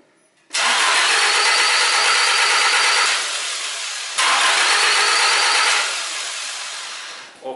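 A car engine with its timing belt in the wrong position cranks twice in long, harsh whirring bursts, close and loud, with a short pause between attempts and no catch.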